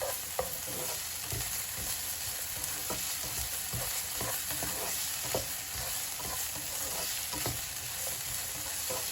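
Garlic paste frying in a pan, a steady loud sizzle with repeated scraping of a utensil as it is stirred, close by and without any talking.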